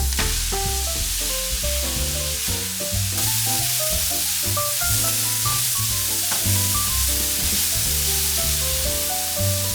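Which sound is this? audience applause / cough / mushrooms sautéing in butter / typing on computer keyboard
mushrooms sautéing in butter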